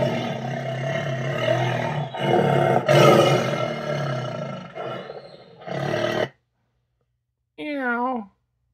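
A tiger roars in several loud, close, rough bursts that stop for a pause, then a short, wavering growl-like roar follows.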